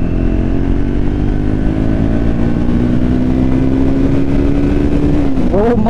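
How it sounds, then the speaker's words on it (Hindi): A Triumph Speed 400 motorcycle in fourth gear at about 60 speed with the throttle opening, a loud, close, rising engine drone that climbs steadily in pitch before a sudden shift near the end. "Opening the throttle."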